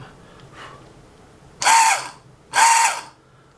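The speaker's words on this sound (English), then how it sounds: "Well, it runs, but it sounds like the bearings are shot in it." 1994 Saab 9000 ABS pump motor with worn bearings, run on the bench in two short bursts, each a loud harsh whirring grind that starts abruptly and stops after about half a second, with no talk.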